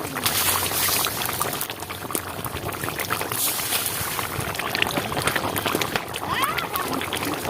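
Liquid is poured into a cooking pan while rohu fish curry is being made, giving a steady, faint sloshing and sizzling wash.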